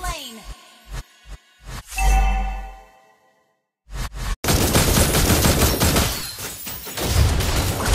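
Rapid bursts of gunfire from Granger's crescendo bullet in the mobile game Mobile Legends, with a few separate sharp shots and a chime, then a dense loud barrage of repeated firing filling the back half.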